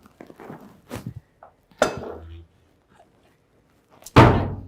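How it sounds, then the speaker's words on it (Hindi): A door swings shut with a sharp, loud thud near the end, after scattered quieter knocks and soft movement indoors, with no talk over the closing. "दरवाजा बंद कर दो।"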